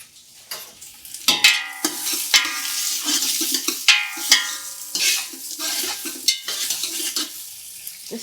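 Onions sweating with coarse sea salt and pepper in a large soup pot for tomato soup, with soft sizzling under repeated clanking stirs and scrapes of a utensil against the pot.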